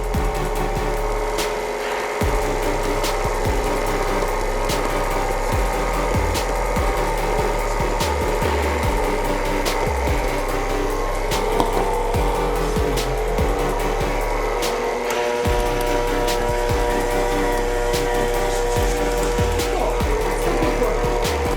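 A stand mixer running on low whirs steadily as flour is gradually poured into the dough, a constant mid-pitched motor drone with faint rhythmic thumps and clatter from the bowl, close and with no one talking.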